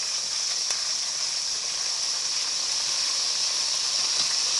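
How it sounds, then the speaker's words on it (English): Steady, bright sizzling of hash browns frying in hot oil, loud and continuous with a few faint pops throughout. "Now it's going to make a crazy popping sound, so don't be alarmed."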